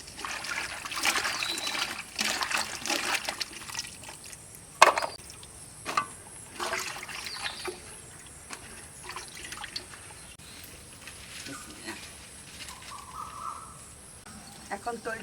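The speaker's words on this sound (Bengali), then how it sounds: "কলা কাটা এখন শেষ, কলাগুলো এখন ধুয়ে নেব।" Freshly cut green bananas from a home tree are rinsed in water, with light trickling and splashing, scattered clunks and knocks, and background voices throughout.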